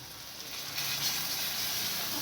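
Turmeric and chili powder paste frying in a pan with a steady, soft hiss and sizzle, close and continuous, with no talk over it.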